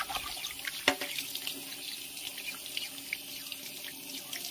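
Old copper-green-rusted coins are rinsed under a running tap, with a steady soft stream of water and a sharp clink early on, all fairly quiet and close.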